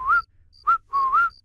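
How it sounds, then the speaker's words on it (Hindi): A person whistles a signal in three short, rising, clear notes, the last one drawn out longer, close and alone in a quiet setting. "सीटी बजा के मुझे इशारा कर देना"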